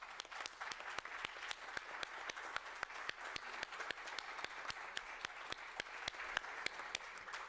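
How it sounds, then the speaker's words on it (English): Faint, distant clapping from an audience at an archaeometry conference, a thin patter of hands with a few sharp, regular claps standing out and keeping an even rhythm throughout, with no talking over it. "I think we need an applause now."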